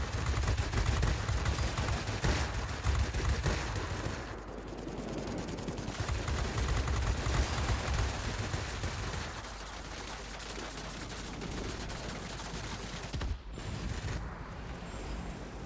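Rotating turret machine gun on a Blenheim F bomber in World of Warplanes fires long, sustained rattling bursts over a constant engine drone. The fire eases briefly and then continues, with a sharp break near the end.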